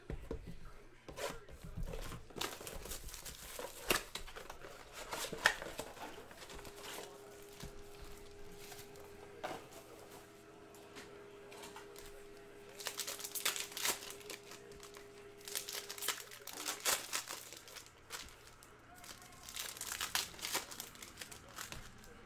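A 2019-20 Hoops Premium Stock basketball card blaster pack is torn open, with repeated close crinkling and crumpling of foil wrapper in bursts across the whole stretch, over a faint steady hum.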